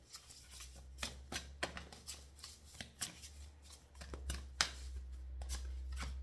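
Playing cards being shuffled, a run of crisp riffling flicks repeating in irregular bursts, close by with a low hum underneath.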